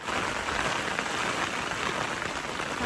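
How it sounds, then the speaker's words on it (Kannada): Heavy rain pours down steadily in an outdoor setting where a stuck TUV 300 is being pulled out, a dense, constant wash of drops that is loud and close, with no voices over it. "ಇವಾಗ ತುಂಬ ಮಳೆ ಇದೆ."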